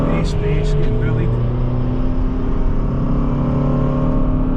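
Race car engines drone loudly and steadily on a track day, a close, sustained harmonic roar with other cars around, rising slightly as they accelerate.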